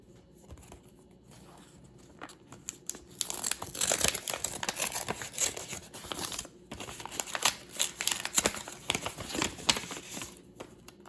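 A paper envelope is torn open and its contents pulled out, with a quiet start and then a long run of loud, close crinkling, ripping and rustling bursts. No one speaks.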